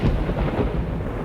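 Thunder rumbles low and steady over an open area ahead of rain, a broad continuous roll that stays fairly loud through the whole moment without any voices.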